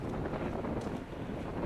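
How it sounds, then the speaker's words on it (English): Strong wind gusting at a beach, buffeting the microphone with a steady, broadband roar that stays dense and fairly quiet throughout, with no voices. "it's windy as hell"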